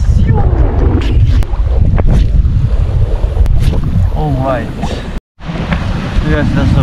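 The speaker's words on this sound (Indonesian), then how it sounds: "Tapi ini masih berangin, guys." Strong wind buffets a boat while fishing at sea, with loud, continuous broadband rushing and microphone wind noise throughout and a brief dropout near the end; voices talk over it.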